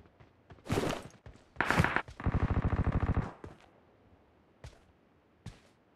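Thompson submachine gun in PUBG firing in two loud bursts, the second a sustained rapid rattle of about a second, followed by a few isolated sharp shots.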